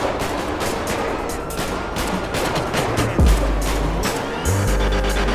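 A street shootout in a video game fires off in rapid bursts of gunshots and a machine-gun-like fusillade, loud and close, with low rumbling tones underneath.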